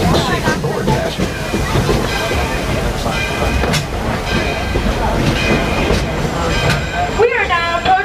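Walt Disney World Railroad steam train running, a loud, steady rumble of wheels and carriages with rhythmic clatter heard from on board, ending in a brief whistle-like squeal; a voice speaks over it.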